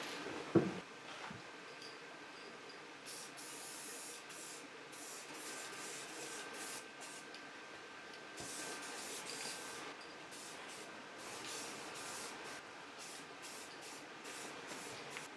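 Spray paint applied to a trailer hitch for a 2008 Dodge 2500 bumper, outdoors in damp, cool weather: repeated short aerosol bursts in an irregular rhythm, moderately close and fairly quiet, without speech.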